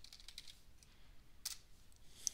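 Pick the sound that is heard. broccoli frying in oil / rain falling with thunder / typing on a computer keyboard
typing on a computer keyboard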